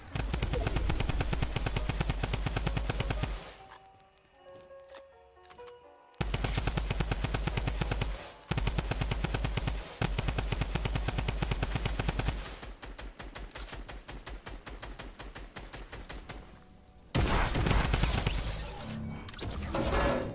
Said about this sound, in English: killing someone with a drum gun